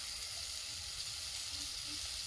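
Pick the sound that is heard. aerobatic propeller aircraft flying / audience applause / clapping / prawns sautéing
prawns sautéing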